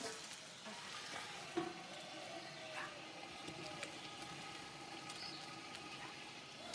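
Pot of thyme, celery, parsley and salt simmering on the stove, a faint steady sizzle and bubbling with occasional light clinks, heard close and low without talk.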